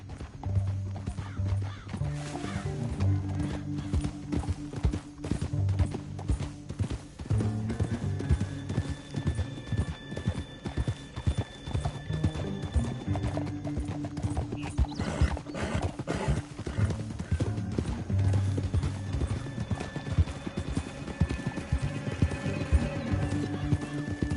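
Horse hooves clip-clop at a steady trot over a long stretch in Red Dead Redemption 2, with occasional horse whinnies and snorts; clean, game-like sound design with no talking.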